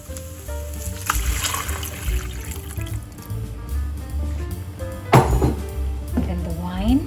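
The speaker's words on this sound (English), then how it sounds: "I will add the broth first." Chicken broth for a fricassee pours into a cooking pot with a close, uneven liquid splashing and gurgling, mixed with light clatter and a voice in the background.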